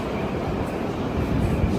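A Moscow metro train rumbles steadily at Prospekt Mira station amid a crowd heading to Eid prayers, a continuous low, dense roar with no distinct pauses.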